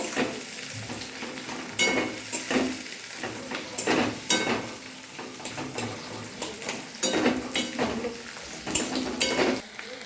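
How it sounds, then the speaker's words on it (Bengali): Oil sizzles steadily in a pan with chopped garlic, ginger and chili while a utensil stirs and scrapes, with intermittent metallic clinks of a spoon against the pan. "একটু ভাজা ভাজা করে নেব।"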